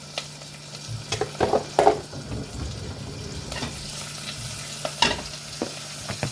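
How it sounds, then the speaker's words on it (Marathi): Cumin and mustard seeds crackle and sizzle in hot oil, with sharp pops and spatters coming in bursts alongside the scrape of stirring. "थोडी जिरे मोहरी टाकते मी आता"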